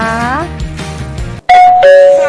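A notification bell chime rings out in clear bright tones following a voice, loud and ringing briefly near the end.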